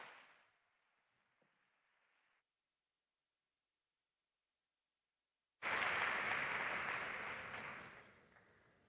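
Applause at a university Erasmus+ event fades out in the opening seconds, then after a silent gap a fresh burst of clapping from a hall audience starts loudly and tapers off toward the end.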